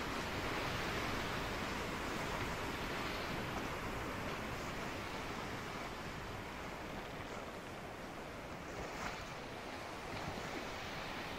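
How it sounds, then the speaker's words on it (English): Ocean waves roll and wash steadily in the sailing game Sailwind, a broad continuous surf hiss with wind noise mixed in, fairly faint and unbroken, with no talking. "Those waves are pushing us toward"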